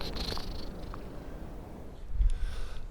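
A cat purrs quietly and close by with a low, rough rumble, under outdoor background noise and a brief louder thump near the end.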